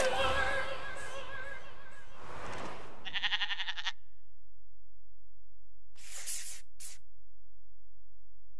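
Sheep bleating from a Just Dance 2020 dance game track: one wavering, nasal bleat follows a burst of music, then a few short, breathy bursts over near silence.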